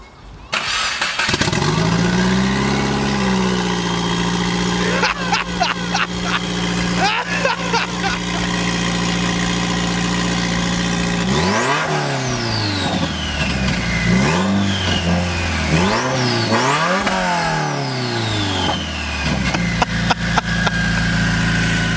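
A loud turbocharged Subaru WRX engine with no exhaust or downpipe starts and revs repeatedly, harsh roars climbing and falling with turbo whistles, very close and raw.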